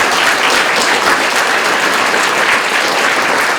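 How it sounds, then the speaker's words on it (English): Dense, loud applause from a lecture audience fills the room without a break, many hands clapping together in a steady roar with no voices above it. "We give Mr. Melikian a round of applause."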